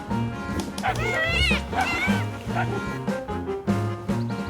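A dog barks and yips in a run of sharp, close calls, with some whimpering and a high whining tone mixed in, alongside other sound from a game session.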